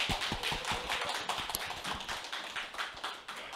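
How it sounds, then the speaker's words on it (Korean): An audience claps at a lecture event as a speaker is introduced: dense, steady applause with many overlapping hand claps, fairly close and loud throughout, with no talking. "우리 이도환 국장님을 여러분 큰 박수로 모시겠습니다."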